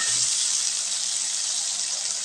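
Chopped tomatoes go into a pan of frying onions for an Andhra-style gongura pachadi, giving a steady, even sizzle that holds at one level throughout with no talk.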